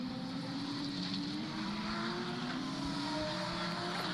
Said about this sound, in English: Jeffy Paul is racing